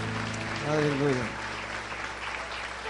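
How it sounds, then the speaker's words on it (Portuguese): Congregation at a church service claps together in praise, a steady wash of hands with a voice briefly calling out over it near the start. "Uma salva de palmas ao Senhor."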